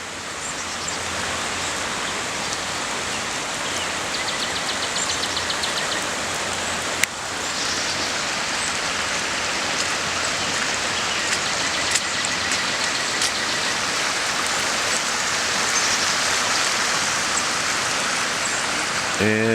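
A creek swollen by floodwater roars over a buried waterfall, a loud continuous broadband rush of water with no pauses, close and steady throughout, with a brief knock partway in.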